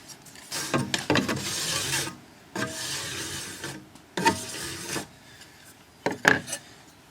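A file rasps in four separate strokes along the side of a chainsaw bar on a Husqvarna 390XP, dressing off burrs; each scrape is close, gritty and steady, with short pauses between strokes and a brief metallic tick at the end.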